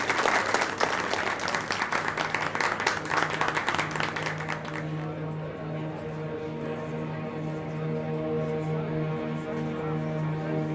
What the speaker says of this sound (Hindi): इन दोनों के लिए जोर से तालियां हो जाए।